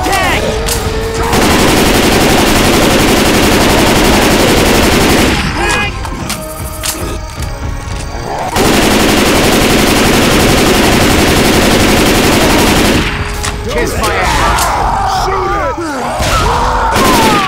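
Sustained heavy gunfire at the Tank in Left 4 Dead 2 on the Swamp Fever campaign, loud rapid bursts layered with booms that break off briefly twice before resuming, with game voices shouting over the din.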